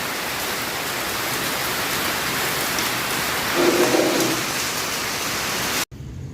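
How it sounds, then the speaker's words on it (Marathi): Steady, dense rain hisses outside a hotel during a storm, a constant wash of sound with no distinct thunder claps. "आत्ता पाऊस कमी आला आहे पण विजा व्हायच्या कमी नाही आल्यात खूप मोठ्यानं विजा होत आहेत"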